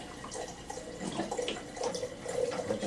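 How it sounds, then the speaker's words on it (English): Alkaline water pours into a container for making tea, giving a soft, uneven trickle and splash heard close up with no voices. "let me put some alkaline water in this"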